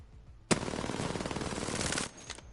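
A single sustained burst of automatic weapon fire in a first-person shooter game, loud and close, lasting about a second and a half before cutting off, with a few trailing shots.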